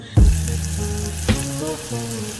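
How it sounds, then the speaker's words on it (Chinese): Garlic fries in melted butter in a pan for a shrimp dish, giving a loud, steady sizzle with a couple of sharp bursts as ingredients are stirred or added. "用黄油来炸大蒜真的是太香了"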